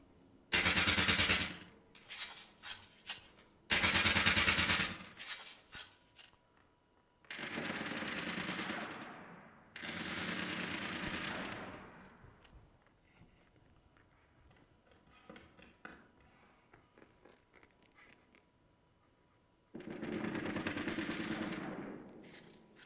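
Overwatch video game gunfire processed through a stereo quad delay effect: loud bursts of rapid automatic shots separated by gaps, with echoing delayed repeats trailing off into space after each volley, and no voices.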